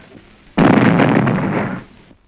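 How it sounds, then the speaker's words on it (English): A bomb blast bursts suddenly into a loud, sustained roar that holds for about a second and a half before cutting off, set against a quiet background with no speech. "The explosion was from a bomb thrown by a Hindu refugee to kill Gandhi"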